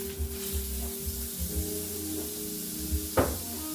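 Butter sizzles in a hot pan for fried rice, a steady close hiss with soft crackles and one brief louder spatter near the end.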